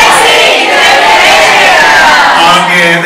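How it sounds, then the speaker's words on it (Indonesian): A school assembly crowd makes a loud, steady roar of clapping and cheering without a break, with voices mixed into the noise. "Tepuk tangan dulu dong buat kita semua pagi ini teman-teman."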